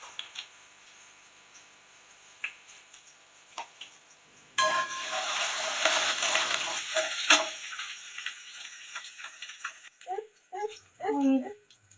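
Boiled, chopped potatoes drop into hot oil and begin frying, a sudden loud sizzle that stays steady for a few seconds, then settles into quieter crackling punctuated by clinks of stirring.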